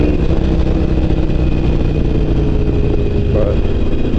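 A motorcycle fitted with a Vance and Hines FP3 exhaust idles steadily and loudly up close, a constant low rumble with a slight rise near the end.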